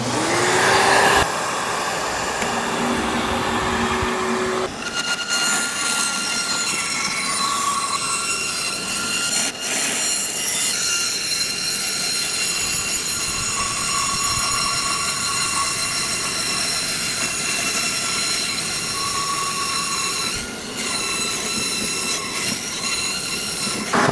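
Power tool cutting rosewood whines loudly and continuously, with a shrill sustained tone, shifting pitch and brief dips as the cut progresses.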